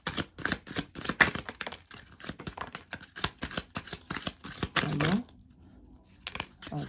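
Tarot cards being shuffled, a rapid run of crisp papery flicks and riffles close by, with a brief rustling burst near the end before a short pause.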